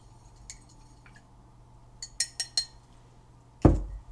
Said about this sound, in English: I'm going to go ahead and rinse that off now